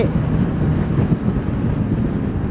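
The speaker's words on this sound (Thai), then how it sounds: "ลมแรงมากเลย" Strong wind buffets the microphone while riding a Honda PCX scooter with 17-inch wheels and an aftermarket exhaust at about 114 km/h, a steady loud low roar with no pauses.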